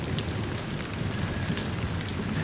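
Steady rain pours down and patters on surfaces in a dense, even hiss, with scattered louder drops and no voices.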